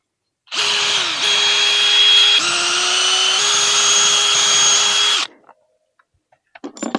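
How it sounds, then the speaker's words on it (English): A power drill pre-drills holes for a Ghost Controls gate opener bracket, a loud, close, continuous whine running about five seconds with brief dips between bursts as the trigger is eased, then cutting off, with small clatters after. "I'm going to pre-drill the holes."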